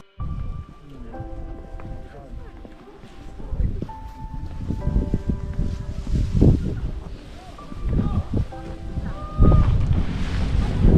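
Wind gusts buffet the microphone in rumbling bursts on the Preikestolen in Norway, with scattered tones and faint background voices mixed in.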